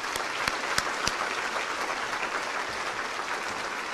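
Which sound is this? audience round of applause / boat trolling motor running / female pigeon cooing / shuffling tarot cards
audience round of applause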